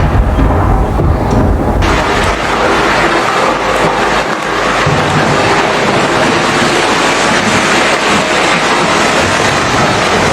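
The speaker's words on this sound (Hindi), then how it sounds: "बस बारिश अंदर आने वाली है।" Steady loud rain with rumbling thunder as a sound effect during a Hindi stage drama on child rights, a dense continuous roar filling the whole stretch, with a brighter hiss emerging after the first couple of seconds.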